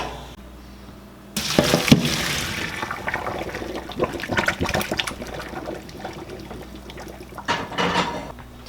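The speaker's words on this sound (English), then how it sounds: "Green beans are done, so we can drain those" Cooked green beans are drained, with water pouring and splashing in a steady rush that starts abruptly, runs for several seconds and surges again near the end.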